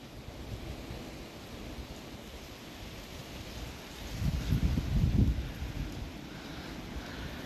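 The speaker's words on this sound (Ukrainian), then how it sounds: "Подивіться, який вітер звівається." Low rumbling strong wind in the Carpathian forest buffets the microphone, swelling into a stronger gust midway before settling back to a steady blow.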